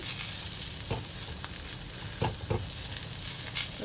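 Bitter gourd fry is stirred in a hot pan: a steady, close frying sizzle runs throughout, broken by a few louder scrapes and knocks of the spoon against the pan.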